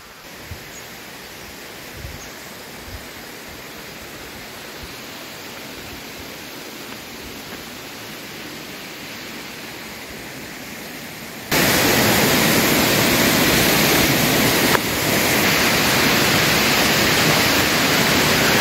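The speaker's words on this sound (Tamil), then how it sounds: "ஃபால்ஸ் கிட்டே இருக்க பாருங்க." Broad, steady rush of water at the Kailasa Kona waterfall, at first moderate and then jumping much louder and fuller as the falls come close, with no talk.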